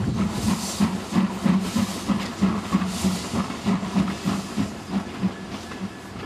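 Dutch heritage locomotive 23023 hauling a train at a rolling stock show, with a steady rumble, hiss and rhythmic wheel clatter over the rails, heard continuously at moderate distance without voices.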